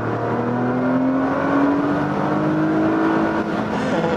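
Nissan GT-R engine revving as the driver accelerates, a loud close steady roar with rising pitch, heard from inside the car without talk.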